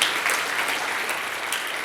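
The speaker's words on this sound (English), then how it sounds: "So I think that deserves a round of applause there in itself." Audience applause at a social inclusion forum, a brief burst of steady clapping from a seated crowd, fairly loud and even throughout with no voices over it.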